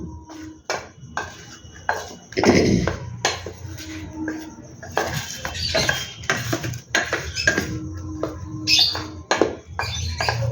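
Spices such as Kashmiri and red chilli powder being mixed into potato kurkuri in a bowl: irregular clinks, scrapes and knocks of a spoon or hand against the bowl, loud and close, no talk.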